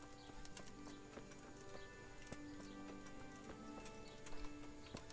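Horse hooves clip-clop in the medieval video game Kingdom Come: Deliverance. The soft, steady hoofbeats are faint and distant, backed by a quiet ambient bed with a few ticking sounds.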